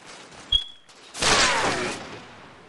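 A single sniper rifle shot fired in the video game Halo 4, a loud sharp crack followed by a long rolling echo tail, standing alone without talk.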